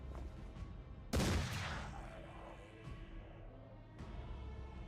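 A single loud gunshot in the fantasy tactics game Mordheim: City of the Damned, firing at a zombie, followed by a fading rumble, with softer thuds trailing in the quiet afterward.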